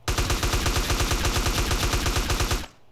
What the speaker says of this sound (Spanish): Sí, balazos en el ano a Big Smoke, un poquito más